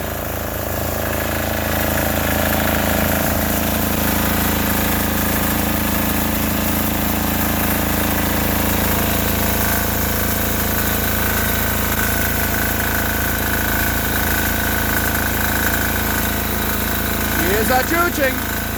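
A 6HP 178F single-cylinder diesel engine idles steadily after a cold start at minus 30, giving a loud, continuous low chugging drone that holds for the whole stretch, with a brief rise in roughness near the end.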